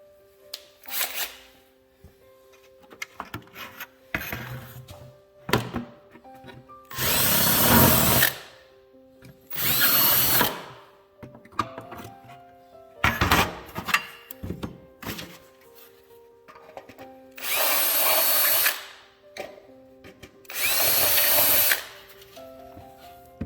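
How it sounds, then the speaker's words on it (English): Several short, loud bursts of a power drill drilling a hole to install a dash mount in a 2017-2022 Ford Super Duty, spaced several seconds apart, with tool clunks and quiet handling noises in between. "So now I'll give you a second drill bit to make your final hole"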